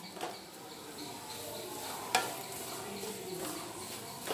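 Crushed Maggi noodles sautéed with potato masala in a pan over low flame, a soft, quiet sizzle with gentle stirring scrapes and one brief clack of a spoon against the pan.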